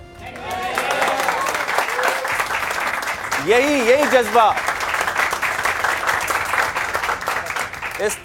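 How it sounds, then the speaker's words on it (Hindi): A crowd of young people at a political election rally claps and cheers, a sustained wash of applause while someone talks loudly over it. "इन तालियों की गूंज से हम समझ सकते हैं"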